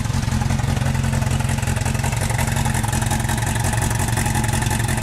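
The engine of an old car runs close and loud in a rapid, even clatter. The pitch holds nearly steady, with little sign of revving.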